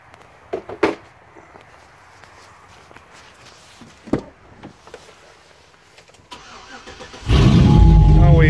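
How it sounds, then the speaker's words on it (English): A 2005 Chevy Tahoe V8 with a misfire and no exhaust past the Y-pipe and catalytic converters fires up after some footsteps, door and handling sounds, then runs loud and rough, filling the final second of the clip. "Now we have no exhaust on here right now except for the Y pipe and cats, so it is a little loud"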